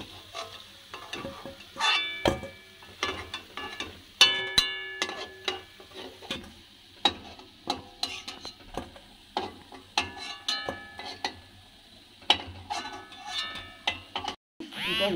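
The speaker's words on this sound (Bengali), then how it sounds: "এইভাবে আমি সবগুলো বড়া ভেজে নেব" Bora fritters frying in hot oil, heard as busy close clatter and sharp scraping clicks from stirring and turning in the pan over a low sizzle, irregular bursts throughout with no talk.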